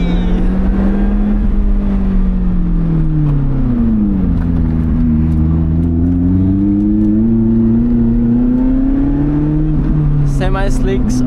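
A 2020 Lotus Elise Cup 250 engine drones loudly from inside the cabin, pitch rising and falling through gear changes on a winding road, with a voice speaking over it.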